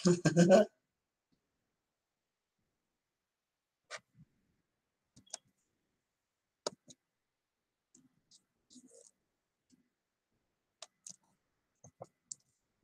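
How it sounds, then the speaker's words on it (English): A sticky computer keyboard is typed on in scattered, sparse key clicks. They are close and quiet, with long gaps, after a brief bit of speech at the start. "I am trying to type with this sticky keyboard."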